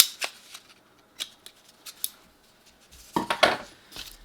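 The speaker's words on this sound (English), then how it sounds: "I'm going to make 4 cuts in the bottom of the tube, about equidistant." Scissors snip through a cardboard tube in sharp, separate cuts, a few spaced clicks followed by a quicker cluster of crunchy snips, close by with no talking.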